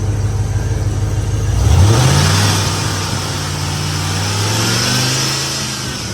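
An old Ford truck engine idles and then revs up, the pitch climbing near the two-second mark before settling into a steady, loud, close hum at higher RPM.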